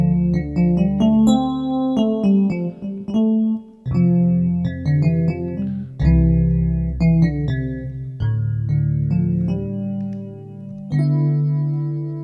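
Akai MPK Mini Play MK3 keyboard playing a retro 80s-style piano patch with chorus and reverb, as layered chords and melody notes ring on steadily and loudly with sustained, shimmering tails and no talking.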